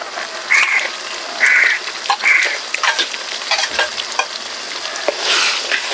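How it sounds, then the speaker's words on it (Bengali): Almond paste is stirred into frying spices for a potato and pointed gourd curry, giving a loud close sizzle with repeated squeaky scraping strokes of a spatula in an uneven rhythm and no talk. "বাদাম বাটা দিয়ে মশলার সাথে খুব ভালো করে মিশিয়ে নিব"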